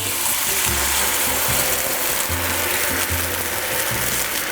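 Mushroom and rice risotto in a pan takes a pour of stock, a loud dense hissing sizzle with rough, uneven rattling bursts throughout, close and steady with no talking.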